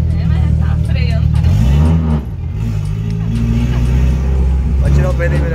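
A turbocharged Chevrolet Chevette with an AP engine revs and accelerates up close, its loud, steady engine drone rising and dipping through a gear change, with faint exhaust pops underneath and people talking in the car.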